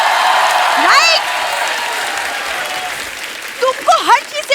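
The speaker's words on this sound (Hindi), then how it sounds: "मैं बोलूंगी ये तालियां बजती रहेंगी, नहीं रुकने वाली।" Sustained studio audience applause on a comedy show, loud and dense for about a second, then continuing steadily as a voice rises over it near the end.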